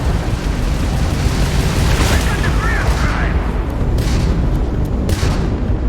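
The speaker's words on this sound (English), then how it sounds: "that's a Crimson Fleet ship bringing its weapons to bear" A Crimson Fleet starship's weapons fire during space combat in Starfield, with booming shots and bursts over a dense, continuous rumble of battle noise.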